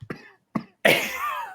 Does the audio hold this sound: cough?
yes